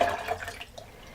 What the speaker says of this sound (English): So I will strain this into yet another container just to be sure